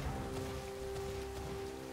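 Rain falling in the Pokemon Scarlet video game, a steady soft patter that continues evenly throughout, with a faint tonal hum underneath and no talking.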